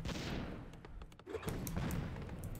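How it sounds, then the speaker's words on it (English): Mortar team artillery in a Warcraft 3 match, a burst of booming shots and thuds over a busy battle din, fairly quiet and distant with a brief lull before the firing resumes. "Mortar team doing so much damage there in the back"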